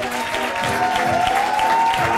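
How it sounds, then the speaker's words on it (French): A studio audience on a French TV show applauds steadily as a guest is welcomed: dense, sustained clapping that holds at an even loudness throughout, with a faint high whistle rising through the middle. "Je vous demande d'applaudir Monsieur Christophe Guibé."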